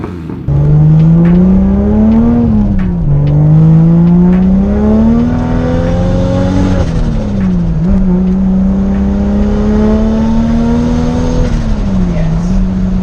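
A turbocharged Toyota Supra with an eBay turbo, making over 500 wheel horsepower, revs loudly while driving, its engine note climbing steadily through several long pulls with brief dips between gears, heard close and continuous.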